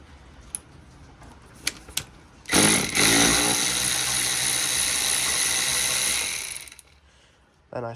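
A ratchet undoes small T30 Torx bolts on a Ford Fiesta Mk7 air filter cover: a few sharp clicks, then a few seconds of continuous fast rasping clicks, close and loud, ending abruptly.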